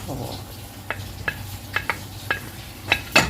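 Prawn shells being stirred into a pan of frying tomato, onion and green chilli, with soft sizzling beneath a string of sharp spoon-on-pan scrapes and clinks, the last few louder and closer together.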